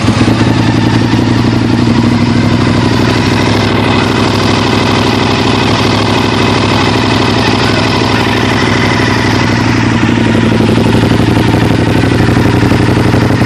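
A 2002 Honda RC51 with a Yoshimura exhaust runs at a loud, steady idle close by, its low throb and mechanical clatter holding constant without revving.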